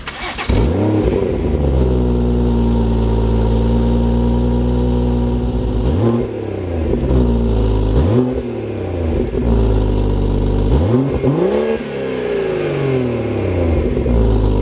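A BMW M140i fitted with an official M Performance exhaust back box idles loudly and is blipped through four sharp revs, each rising to a roar and dropping back to a deep rumble.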